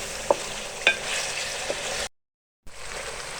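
Chicken chana masala sizzles and fries in a pan while being stirred, a steady frying hiss with a few clinks of the spoon and a short silent gap.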